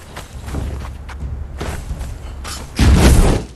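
An explosive jar trap goes off in a video game, a loud booming blast near the end after a stretch of muffled thumps and footsteps.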